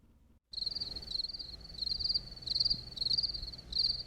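A cricket chirps in rhythmic bursts of shrill trilling after a brief quiet start, the pulses repeating close and clear against a low background hum.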